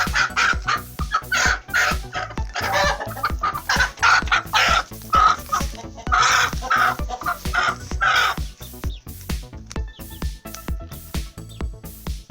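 A chicken in a village clucks repeatedly before slaughter, a busy run of short, loud, close clucks with brief pauses between them.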